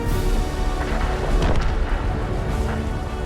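Heavy artillery fire in a World of Tanks-style tank game, a dense, loud stretch of rumbling booms and crashing impacts with no voices.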